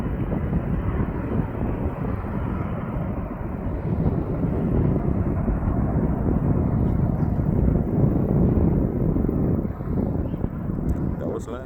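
An airliner lands on the Polderbaan runway at Amsterdam Schiphol, a sustained broad roaring rumble that swells and eases over several seconds, mixed with wind buffeting the microphone.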